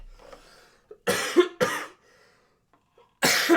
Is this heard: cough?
yes